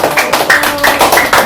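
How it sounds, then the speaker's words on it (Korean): An audience claps at a Korean English lecture, with steady, rapid, close-sounding clapping that continues without a break. "자, 박수 한번 치고 가세요!"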